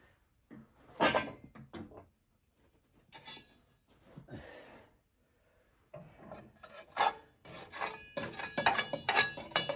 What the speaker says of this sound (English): So bringing all the ash to the middle to fall through the grate.